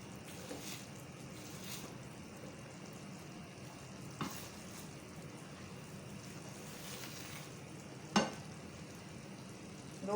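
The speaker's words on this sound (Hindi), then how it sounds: "शीरा हमारा पक रहा है अच्छी तरह से।" Jaggery syrup simmering in a pan, a soft continuous bubbling sizzle with a few faint clinks, heard without talk.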